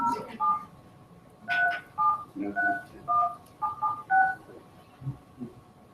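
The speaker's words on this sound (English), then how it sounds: "we're going to try and call Ms. Castle" Telephone keypad dialing tones, a series of about eleven short two-pitch DTMF beeps in an uneven rhythm, heard clearly in a room during a school board meeting as a call is placed.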